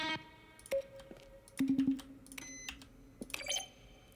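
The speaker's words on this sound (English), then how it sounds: "Each sound is a mix of keyboard stroke and a synthesized tone." Button presses from the video game The Stanley Parable, each a keyboard keystroke blended with a short synthesized tone, several sparse clicks and a quick cluster of beeps, quiet and close with no talk.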